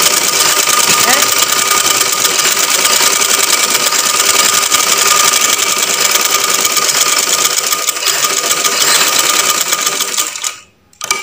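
Sewing machine stitching a neck band onto a shirt, running as a loud, steady rapid whirr for about ten seconds before it stops abruptly.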